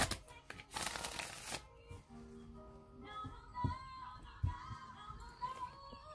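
A deck of tarot cards gets shuffled up close, beginning with a brisk riffling burst followed by quieter shuffling, soft taps and rustles of the cards being handled.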